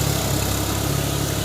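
A New Holland 4710 Excel tractor's diesel engine runs at a steady low idle nearby, a continuous rumbling drone with faint vibration and no other sounds.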